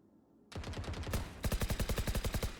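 Automatic gunfire in a competitive Overwatch-style esports match, rapid evenly spaced shots starting abruptly, then a second weapon joins with louder, punchier bursts in a fast steady rhythm.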